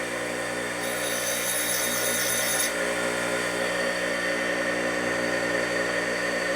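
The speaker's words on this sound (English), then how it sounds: "I haven't ground this edge here yet, so we're going to grind it now." A power grinder working the edge of a transmission part from a 1961 Harley-Davidson Sportster XLCH, giving a steady, close mechanical whine with a brighter high-pitched hiss for a couple of seconds.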